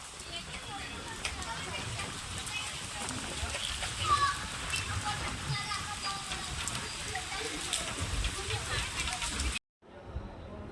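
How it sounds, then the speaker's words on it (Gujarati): Heavy rain pours down in a steady, dense hiss of drops striking surfaces, loud and continuous, with voices and children's chatter mixed in beneath it before it cuts off abruptly near the end. "મસ્ત વરસાદ આવ્યો તો વરસાદમાં નાયા"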